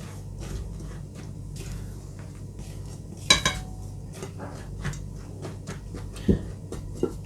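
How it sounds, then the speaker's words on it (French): Chocolate chip cookie ingredients get mixed together in a bowl, with a utensil clinking and scraping against the sides in irregular strokes and a few sharper knocks, close and clear with no talking. "on va venir mélanger ici tous les ingrédients ensemble"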